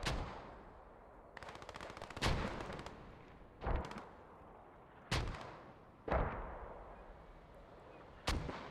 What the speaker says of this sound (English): Mortars hitting them as they spawn.